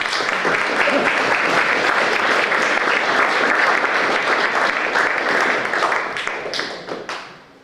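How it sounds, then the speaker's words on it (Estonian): Audience clapping at an outdoor sacred-grove event, a dense sustained round of applause that holds steady before tapering off at the end, with no talk over it. "Jälle plaksuta."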